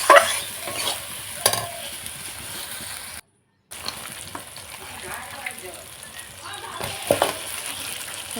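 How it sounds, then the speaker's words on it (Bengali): Spice masala for chicken sautéing over a wood-fired clay stove, a close steady sizzle with repeated stirring scrapes and spatula knocks, cut by a brief silent gap. "ভালো করে মশলাটাকে কষাবো অনেকক্ষণ ধরে"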